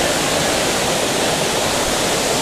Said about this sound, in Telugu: చూడండి ఇదే ఫైనల్ స్టేజ్లో ఉన్న జలపాతం